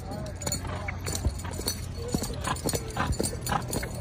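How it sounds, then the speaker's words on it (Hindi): Horse hooves clip-clop in an uneven, continuous patter close by, with occasional sharper knocks, while people talk over them throughout. "वाह घोड़े दे बच्चे"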